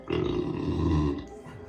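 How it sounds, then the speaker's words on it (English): A long, low guttural burp from a person at a casual tabletop card-game unboxing, loud and close, rumbling for about a second before trailing off into quieter throaty noise. "That was a disappointing burp."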